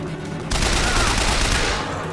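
Gunfire in BioShock Infinite, a dense loud burst of shots that starts abruptly after a quieter moment and rattles on steadily, with some faint game noise underneath.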